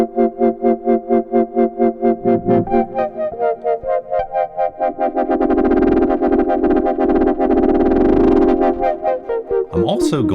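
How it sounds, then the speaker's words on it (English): Arturia PolyBrute analog synthesizer playing sustained chords with reverb added, the pulsing rhythmic pattern swelling into a denser, washed-out tone midway, loud and up close with no talking. "Now let's put up some reverb, see how this sounds."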